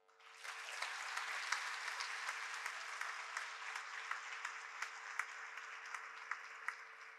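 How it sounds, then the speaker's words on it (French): Steady applause from an audience at a graduation ceremony, honouring the orchestra, choir and dancers. It swells in quickly and holds at an even level, with scattered sharper claps and no voices. "Et je pense que nous pouvons les applaudir."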